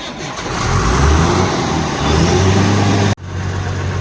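A bus engine rumbles loudly and steadily as the vehicle pulls away, a low droning motor close by with a brief sharp dropout near the end.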